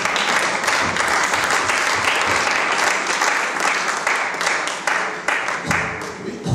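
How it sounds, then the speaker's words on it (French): A church congregation breaking into sustained applause, dense and loud throughout, with some cheering voices mixed in and the clapping thinning slightly toward the end. "Oui, on peut acclamer pour la grâce."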